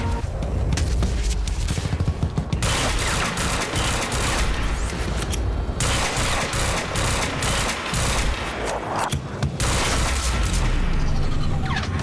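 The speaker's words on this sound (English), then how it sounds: "the burst pistol is just too good, man" Rapid, dense gunfire from a burst pistol in the Quantum Break video game, loud and close. Bursts of shots are stacked over booms and explosions, with a few short gaps, for the whole stretch.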